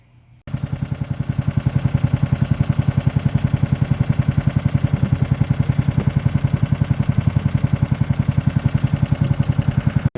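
A go-kart engine with its rev limiter set at 4,200 runs steadily and close, its buzzing, rapid pulsing beat holding throughout after a brief quiet start.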